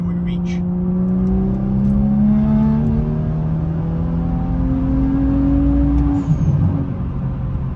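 A stage 1 tuned car engine revs steadily under full throttle, its tone climbing through the gear as the pull continues, loud and constant from inside the cabin.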